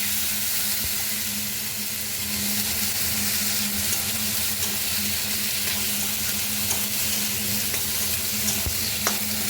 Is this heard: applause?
no